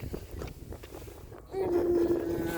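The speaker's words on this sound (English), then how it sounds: "It's windy." Wind blowing outdoors on a walk, a rough rushing buffet against the microphone that swells louder partway through, with a faint tonal whistle and some muffled background.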